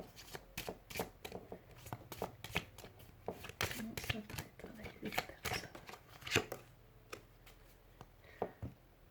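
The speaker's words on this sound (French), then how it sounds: "je vais juste tirer mes cartes pour être sûre" Tarot cards being shuffled and drawn by hand, a run of quick papery slaps and riffles in irregular bursts, close and fairly faint, with someone speaking softly over part of it.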